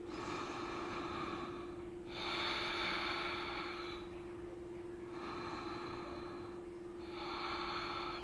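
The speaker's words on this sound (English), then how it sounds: "and we breathe" Slow, deep breathing during a yoga session comes as long, airy inhales and exhales in even cycles of about two seconds. It is close and clear over a steady low hum.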